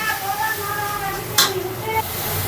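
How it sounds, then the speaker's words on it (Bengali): Spice masala with turmeric powder sizzles and is stirred in a pan, a steady frying hiss with occasional scraping clinks of a spoon against the metal. "এখন ভালো করে মশলাটা কষিয়ে নেব"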